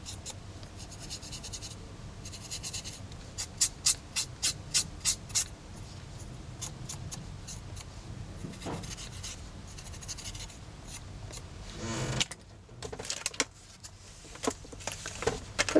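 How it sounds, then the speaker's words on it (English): A brush sweeps stray embossing powder off a small hot-glue-resist artist trading card, making soft dry scratchy rubbing strokes in short bursts, close and fairly quiet, with some sharper ticks between passes. "Just going to get a brush, brush it off the bits I don't want it to be on."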